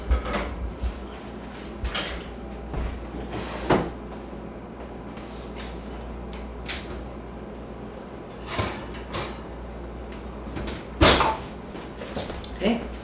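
An oven door is opened in a home kitchen to take out baked tostadas: a few scattered clunks and bumps, with one louder thud near the end, over steady low room noise.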